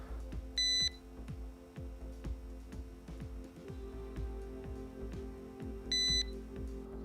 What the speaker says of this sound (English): When the Xpointer Max doesn't detect anything for 3 minutes, it will start to beep at a certain frequency.